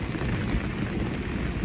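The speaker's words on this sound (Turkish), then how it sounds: "Bu arada gök gürültüsünü duyuyorsunuz." Low rolling thunder rumbles through steady, dense rain falling outdoors on potted succulents, a continuous broad wash with no clear breaks.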